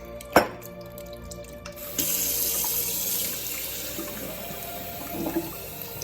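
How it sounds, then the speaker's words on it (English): Tap water runs into the reservoir of an AeroGarden indoor garden. It starts with a sharp knock, then a steady faucet stream fills and splashes, with brief clatter near the end. "I need some more tap water."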